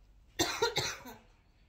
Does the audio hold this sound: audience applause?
no